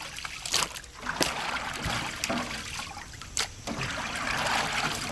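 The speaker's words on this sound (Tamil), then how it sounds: "தண்ணி வடிச்சுடுறோமே." Water draining off food in an outdoor village kitchen, trickling and splashing close by in irregular bursts with a few sharp clatters.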